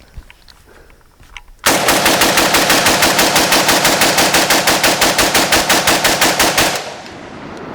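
An AK-47 rifle emptying a full 30-round ProMag magazine in one continuous burst of rapid, loud, evenly spaced shots lasting about five seconds, then silence.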